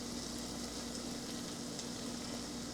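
Chili powder hitting hot oil in a pan of mulakaya (drumstick) curry, a loud, dense, continuous sizzle heard up close, with a low steady hum underneath and no talking.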